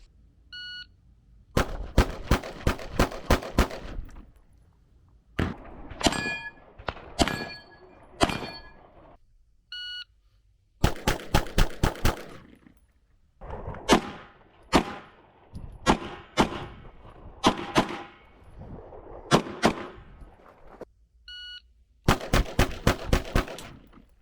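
Stoeger STR-9 pistol firing in several strings of rapid, loud, sharp shots, with short pauses and a few quiet electronic beeps between the bursts.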